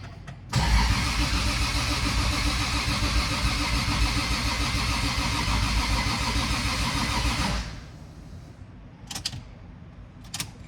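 A Lexus IS300 with a new 2JZ-GE engine cranks loudly and steadily for about seven seconds on its first start without catching, then the starter stops, leaving quieter background with a couple of small clicks.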